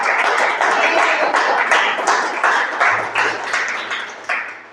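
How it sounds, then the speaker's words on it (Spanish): A church congregation applauds during a sermon, steady clapping from many hands filling the room at close range with a sustained, even wash of claps and no talk over it. "Dale un aplauso a Dios por su palabra."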